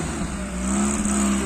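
A car drives past on a winter road in the Carpathians, its engine note rising and droning loudly and steadily for a moment up close.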